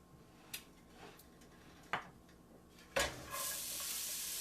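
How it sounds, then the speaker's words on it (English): Chopped onion dropped into a hot olive oil pan on medium-high heat, a few quiet clicks and taps followed by a sudden loud burst of sizzling that settles into a steady close hiss. "And we're going to put in our chopped onion."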